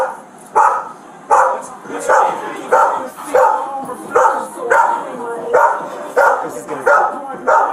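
A dog barks loudly and close by in a steady rhythm, about one bark per second, during a tense police arrest outdoors, while people talk over the barking.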